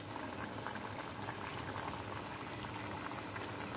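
A bele fish curry bubbles and simmers in a pan, giving a soft, constant boiling burble that stays fairly faint and even throughout.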